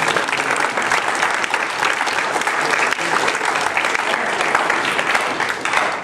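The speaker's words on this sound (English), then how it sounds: "Please, a round of applause for all" An audience applauds steadily and loudly at a medical lecture demonstration, a dense sustained clapping with no break, heard alone.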